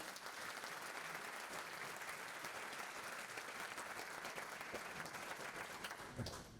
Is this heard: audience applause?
yes